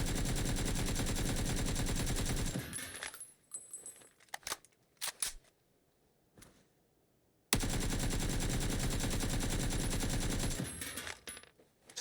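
Automatic rifle fire in PUBG on console, two long sustained bursts of rapid shots, loud and close, with a gap of scattered single shots and near silence between them.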